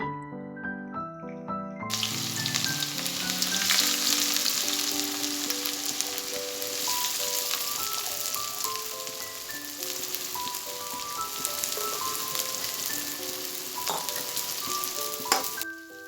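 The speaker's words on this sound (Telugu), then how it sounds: "ఆయిల్ హీట్ అయిన తర్వాత మనం కట్ చేసుకున్న ఆనియన్స్ని ఆయిల్లో బాగా వేయించాలి" Chopped onions fry in hot oil for a chicken curry, giving a steady close sizzle with a few sharp crackles and clinks throughout.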